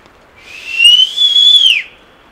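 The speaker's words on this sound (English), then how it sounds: "He looked over here when you whistled." A person whistles to catch a large grizzly bear's attention near a camp in the Canadian Rockies, making a single clear, rising-then-falling whistle that lasts about a second and a half against near silence.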